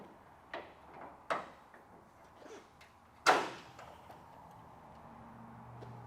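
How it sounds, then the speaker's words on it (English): Tailgate being lowered on a 1954 Chevrolet 3100 pickup, with chain hooks: a few sharp metallic clanks and knocks, one louder bang near the middle, then quiet. "What I'm going to do now is I'm going to drop the tailgate here."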